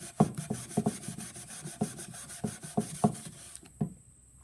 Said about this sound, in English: Now we come back in, and you literally rub this in.